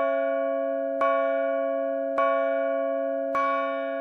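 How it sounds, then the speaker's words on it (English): A clock somewhere in a kingdom strikes the hour with three evenly spaced, resonant bell chimes, each ringing on with a long sustained tone between strikes, with no voices. "he heard a clock somewhere in the kingdom strike the hour."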